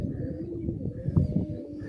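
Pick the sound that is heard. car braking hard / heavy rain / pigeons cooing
pigeons cooing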